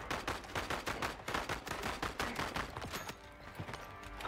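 Rapid machine gun fire from the video game Voidtrain, loud, dense bursts of repeated shots rattling continuously for several seconds, easing off toward the end.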